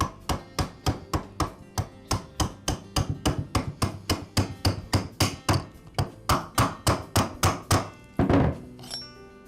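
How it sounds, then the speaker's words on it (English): Metal tubing taps a retainer onto the lower flexible drive shaft of a Ryobi hedge trimmer, giving a steady run of about thirty sharp, close knocks at an even rhythm, ending in a heavier clunk. "I slide the tubing over the shaft and then tap the retainer into place."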